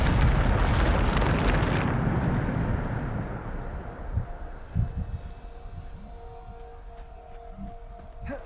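Bombarda spell blast in Hogwarts Legacy: a loud, roaring explosion opens and rumbles for about two seconds, then decays into scattered lower thuds and a lingering hum.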